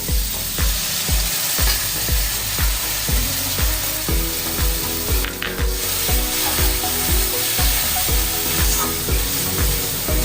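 Masala with tomato, cashews and melon seeds fries in a pan, a spatula scraping and stirring in a steady, regular rhythm over a continuous close sizzle, with no talking.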